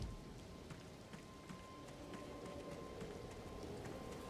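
Steady rainfall in the video game Elden Ring, a soft continuous patter of drops on the ground with faint irregular taps, low in level and uninterrupted by talk.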